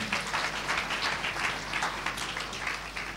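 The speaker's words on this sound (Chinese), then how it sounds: "我们给 Kington 生命精华液一个掌声。" A seated audience applauds together at a health product Q&A event, steady dense clapping held evenly throughout with no gaps, moderately loud and slightly distant.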